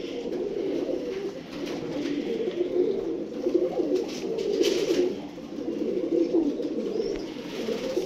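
Pigeons cooing continuously at close range, soft rolling calls that overlap and swell in a steady loop against a faint background, with no one talking.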